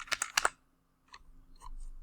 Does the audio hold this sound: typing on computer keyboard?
yes